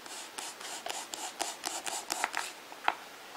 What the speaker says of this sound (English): the first step in this project is to cut up my cork into thin cork slices.